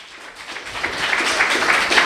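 Church congregation applauding during a Portuguese-language sermon, a dense wash of many hands clapping that swells from soft to full over about two seconds, steady and sustained with no single claps standing out.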